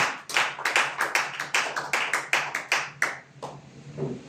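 A church congregation claps their hands together in a fast, steady rhythm of sharp, closely spaced claps. The clapping runs for about three seconds, then thins out to a few scattered claps.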